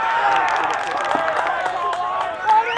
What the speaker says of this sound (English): Here's the cheering behind us from the Orange County Giants.